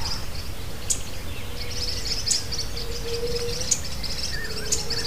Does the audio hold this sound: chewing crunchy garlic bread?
no